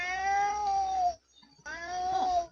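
A cat in the Sims 4 video game meows twice, two drawn-out, clear mews separated by a short pause, with no voices.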